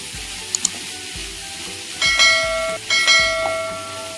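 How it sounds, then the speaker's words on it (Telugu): Amaranth leaves and moong dal stir-fry on high flame, sizzling close up in the pan as a spatula scrapes and turns them, with bright metallic rings from the utensil. "1-2 నిమిషాలు హై ఫ్లేమ్లో పెట్టుకొని ఇలా అటు ఇటు తిప్పుతూ కలుపుకోవడమే"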